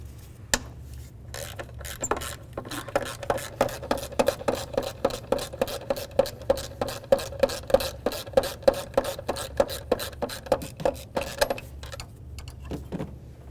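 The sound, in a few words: ratchet with 12mm socket removing a bolt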